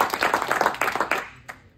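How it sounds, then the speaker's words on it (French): A short burst of clapping rises from an audience greeting an Olympic gold medallist, the claps quick and overlapping before trailing off within two seconds. "vous pouvez l'applaudir chaleureusement"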